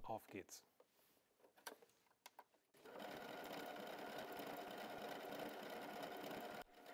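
W6 N 5000 Exklusive sewing machine, first a few short separate clicks and taps, then a steady fast whirring stitch run lasting several seconds before it stops; a voice speaks near the start.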